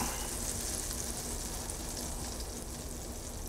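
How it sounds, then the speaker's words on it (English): Butter bubbling and sizzling in a hot pan as its water content boils off, a steady dense crackle that fills the whole stretch without pause, close and fairly loud with no talking. "That bubbling is the water in the butter boiling off."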